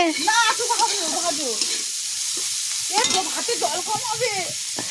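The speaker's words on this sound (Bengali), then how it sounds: "দেখো ভাজা হয়েছে" Cabbage fries in a pan with a steady broadband sizzle running throughout, while voices talk over it in the foreground.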